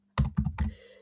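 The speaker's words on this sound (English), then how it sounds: "So all I need to do is type my text in." Three quick keystrokes on a computer keyboard, crisp and close, tapped in a short burst with a brief fading tail and no voices.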